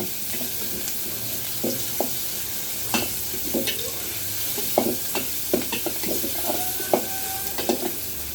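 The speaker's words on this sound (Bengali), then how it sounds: "কাঁচামরিচ আর পেঁয়াজ দিয়ে দিলাম। দিয়ে এটাকে একটু ভালোভাবে ভেজে নেব।" Onions and green chillies sizzle steadily in oil in a pan while a utensil scrapes and stirs in scattered knocks, close and fairly loud.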